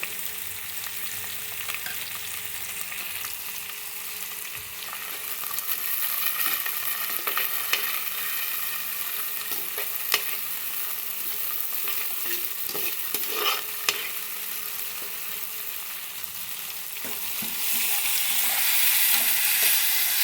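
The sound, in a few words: onions, garlic and curry leaves sautéing and being stirred in pan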